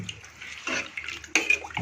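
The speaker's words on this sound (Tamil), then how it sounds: "தண்ணி ஊற்றியாச்சு." Water splashes and pours in short bursts into a cooking pot for mutton curry, close by, with a gurgling rush near the end and no talk.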